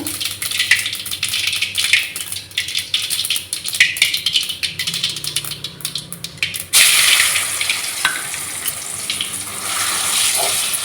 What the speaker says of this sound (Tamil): இப்போ நம்ம அரைச்சி வச்ச நெல்லிக்காய் இதில் சேர்த்துக்கலாம்